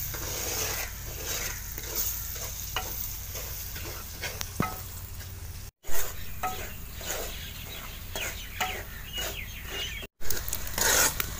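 Semolina being stirred and fried in a pan for village-style suji halwa with raisins, a steady sizzle under repeated scraping strokes of a spoon, close and continuous with brief gaps.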